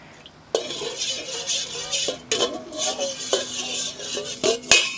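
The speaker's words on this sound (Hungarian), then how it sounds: "óvatosan összekeverem a marószódát a vízzel, apránként fogom beleönteni és kavargatom közben" Scraping and clinking of a utensil stirring lye into water in a container, with repeated sharp knocks against the sides and a final louder clank, no talking.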